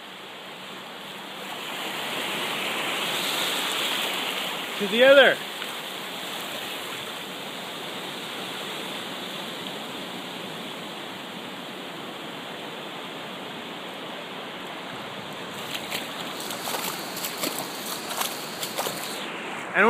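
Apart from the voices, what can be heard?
ocean waves meeting from two sides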